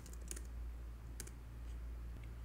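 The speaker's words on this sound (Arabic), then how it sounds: "وضغطتين على السكريبت عشان يفتح" A computer mouse gives a couple of sharp, close clicks separated by about a second, over a low, quiet room hum.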